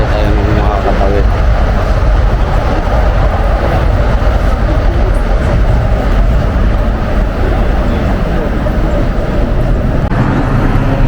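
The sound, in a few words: train passing near Tokyo Tower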